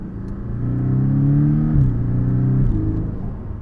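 A Porsche 718 Boxster S sports roadster, rear-wheel drive, accelerating hard nearby, its engine note climbing steadily and dropping briefly at two quick gear shifts before rising again.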